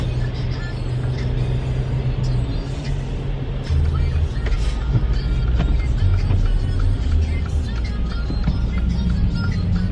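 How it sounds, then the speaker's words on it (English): Car engine accelerating while driving on an errand run, a steady low engine drone rising in level partway through, loud and continuous with road noise. "I barely pressed on the gas and it just went so fast"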